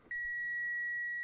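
A car's warning chime sounds right after the ignition key is switched on, a single steady high-pitched electronic beep held for about a second, clear and alone.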